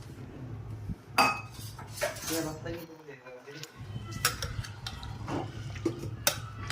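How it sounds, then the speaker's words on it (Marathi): A metal spoon stirs chicken in a cooking pot for biryani, giving scattered scraping clinks and knocks close by, with a voice talking briefly in the middle. "थोडं हलवून घ्यायचं."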